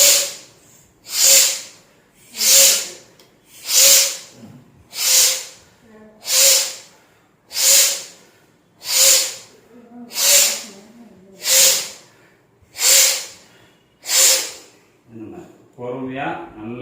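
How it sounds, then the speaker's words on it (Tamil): Forceful nasal exhalations in a breathing exercise come as about a dozen sharp, hissing bursts, evenly spaced roughly every 1.3 seconds, loud and close. A voice begins speaking right at the end. "கீழே இழுத்து அடிக்கிறப்போ அந்த காற்றை மூக்கு வழியே விடுது"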